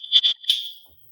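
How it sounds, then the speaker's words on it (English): A fire alarm sounds in short, shrill high-pitched beeps, two quick bursts then a longer tone that fades out, heard clearly and without talk. "We got an alarm there."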